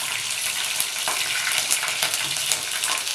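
Whole spices (cloves, cinnamon, cardamom, a bay leaf) and green chillies sizzle steadily in hot oil for a dhaba-style paneer curry, a close, continuous crackling fry with no voices.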